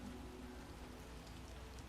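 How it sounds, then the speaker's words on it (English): Steady rain falls in The Witcher video game, a dense, even hiss of drops with no voices over it. "It's raining."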